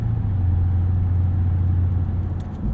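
A 2015 BMW Alpina B6 Gran Coupe driving, its engine holding a steady low hum under continuous road and wind rumble from inside the cabin, loud and unbroken.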